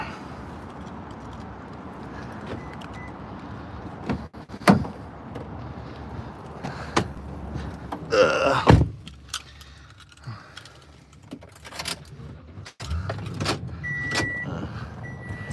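Someone climbs back into a truck: rustling and shuffling, keys jangling, then a sharp door thud and a brief mechanical whir, followed by quieter cabin movement, close by and without talk.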